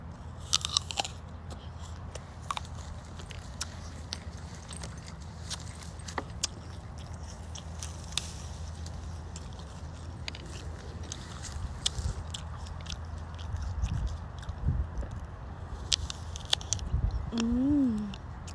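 Crunchy bites and chewing of freshly picked apples from a tree outdoors, a steady run of close, crisp mouth sounds with faint background noise and a brief voiced murmur near the end.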